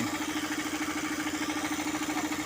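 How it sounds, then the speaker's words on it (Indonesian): A diesel engine runs loudly and steadily at a traditional shrimp pond, its rapid pulsing chug unbroken and close throughout. "Ini dieselnya dikencengin soalnya. Kencang banget suara dieselnya."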